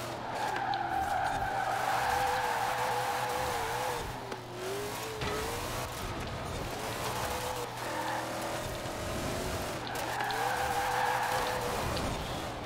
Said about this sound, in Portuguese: Nossa, muito bom o drift desse carro, velho.